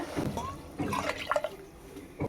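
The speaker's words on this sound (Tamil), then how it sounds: "இப்போ தண்ணியை சேர்த்துருவோங்க" Water is poured into a cooking pot for chickpea biryani, a short gurgling, splashing pour in a home kitchen, close and fairly quiet, with a final splash at the end.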